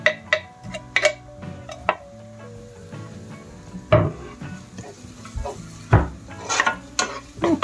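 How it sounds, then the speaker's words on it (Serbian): Peppers and onions frying together in a pan, with irregular clinks and scrapes of a utensil against cookware over a faint, low sizzle, heard close with no talking. "sada možemo i nju dodati ovdje da nam se i ona prži sa ovim lukom zajedno"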